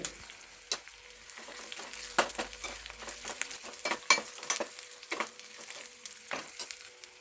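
Crushed garlic and cumin fry in a pan, giving a busy close sizzle punctuated by many sharp spatula scrapes and taps of uneven rhythm.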